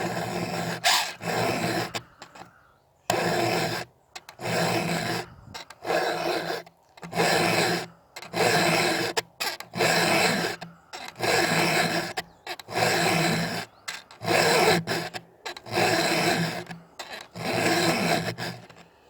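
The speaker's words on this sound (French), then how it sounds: "enlever ce surplus de matière avec la lime ronde" A round file rasps against a chainsaw chain while sharpening it, repeated rhythmic strokes about once a second in grouped passes, each a loud close scraping rasp, with short silent gaps between.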